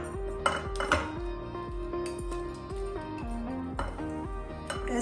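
A utensil scrapes and clinks against a bowl while banana paste is stirred into banana bread batter. The taps and clatters come close and soft, in an uneven rhythm with a few sharper knocks, and no voices are heard.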